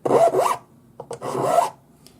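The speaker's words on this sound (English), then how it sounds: "the way you check it is pass your file over it" A hand file rasps across a steel carriage bolt in two short, close, gritty strokes separated by a brief pause, with a few faint scrapes and no talk.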